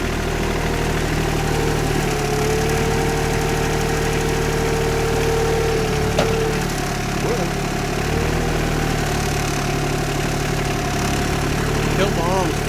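An RK 24 compact tractor engine idles with a steady, loud mid-pitched rumble and vibration throughout, unchanging apart from a couple of faint clicks near the end.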